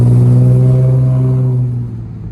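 A Nissan JDM VQ35DE V6, swapped into a car, idles steadily and close by with a strong low hum, the level easing slightly near the end.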